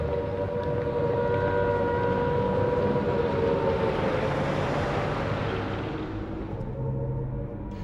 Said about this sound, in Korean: 런던을 가로지르는 사이렌 소리가 있었습니다